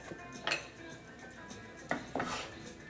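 A spoon stirs vegetable coconut curry in a pot, giving a few sharp metallic clinks against the rim with quiet stretches between them.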